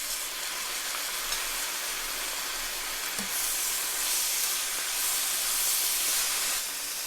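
Soy sauce hits a hot pan of shrimp stir fry, giving a steady, soft sizzling hiss that swells slightly partway through and continues with no talking.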